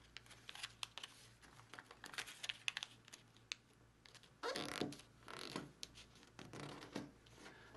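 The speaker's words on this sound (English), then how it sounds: "let's fold this edge to here" Paper being folded into an origami flapping dragon: soft creasing, crinkling and sliding taps, close and quiet, with brief scratchy strokes and a louder rustle partway through.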